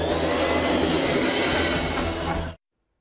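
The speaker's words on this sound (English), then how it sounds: "It's a vacuum cleaner." A vacuum cleaner runs with a loud, steady motor whine and rushing air for over two seconds, then cuts off abruptly into silence.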